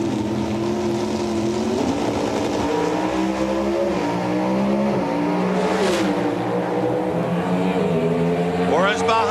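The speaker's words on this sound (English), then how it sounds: "You heard him powering through the 5-speed transmissions" An NHRA drag race car at the 1995 Richmond Nationals roars loud and continuous, climbing in pitch through its 5-speed transmission with several distinct gear-change dips, while an announcer talks over it.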